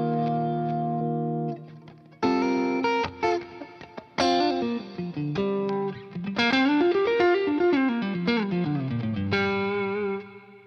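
An electric guitar played through Line 6 Helix delay effects in a lead tone inspired by Eric Johnson, giving bright sustained notes and phrases with repeating echoes that trail off between them, loud and up close, with no talking.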